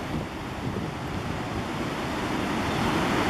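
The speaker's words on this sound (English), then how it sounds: "Well, the river's water is high. It's moving at a pretty good clip." The high Genesee River flows fast with a steady broadband rush of water, mixed with wind noise on the microphone.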